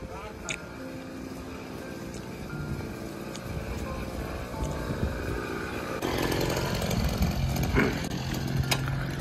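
A water pump driven by a motorcycle engine runs on a farm field, a continuous buzzing engine drone that grows louder and rougher partway through, with occasional clanks and people talking nearby.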